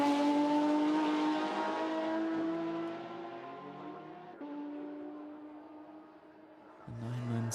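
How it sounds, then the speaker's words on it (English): A Porsche 997 Cup car's flat-six engine races through qualifying at Vila Real, a strong rasping note that holds, then fades slightly and drops off before picking back up near the end. "Great to hear that sonorous flat 6."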